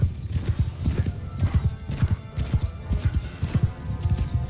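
Rapid hoofbeats of galloping horses pound in a steady rhythm, with a horse whinnying amid the clatter, in the video game Mount & Blade 2: Bannerlord.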